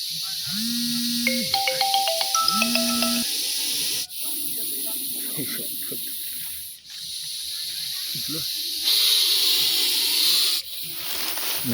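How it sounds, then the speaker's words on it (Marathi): A large Russell's viper in a sugarcane field being harvested hisses angrily, a loud, close, continuous hiss broken by a few brief pauses as it draws breath. "बघू शकताय त्याचा आवाज कसा होता कुकरच्या शेटीवर भरपूरच चिडलेला असा हा गोन जातीचा साप"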